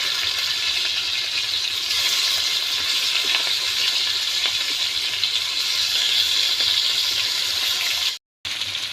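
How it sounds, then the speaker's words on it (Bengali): Raw banana slices sizzle in hot oil in a pan as they are flipped, a loud, steady hiss of frying with faint clinks and a brief drop-out near the end. "এটি হয়ে গেছে ভাজা, এখন আমি উল্টিয়ে দিচ্ছি।"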